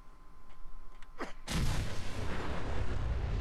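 A combustiblok charge detonates in a modded Fallout 4 game: a rising whoosh, then a sudden deep blast that stays a loud rumbling roar to the end.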